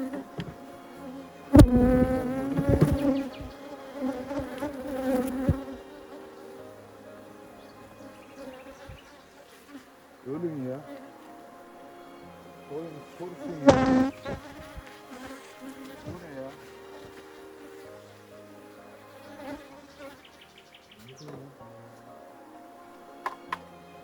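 Honeybees buzz steadily around a hive during beekeeping work, a continuous droning hum with louder swells as insects pass close, broken by a couple of sharp knocks against the hive.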